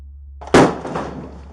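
Police strike a door in one sudden heavy knock or bang after a low steady hum, the impact fairly loud and close and trailing off into a brief rattle.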